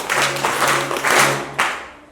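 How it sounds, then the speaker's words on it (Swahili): A church congregation at a Christmas Eve Mass claps together in three loud, rhythmic bursts, close and full, with a faint steady hum underneath. "kwanza naomba tupige makofi matatu"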